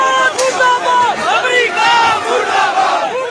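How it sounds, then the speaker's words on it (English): Crowd of protesters rioting in the streets of Karachi outside the US consulate, a loud mass of shouting voices rising and falling in waves of chanting and yelling. "a crowd of protesters attacked the US consulate in the city"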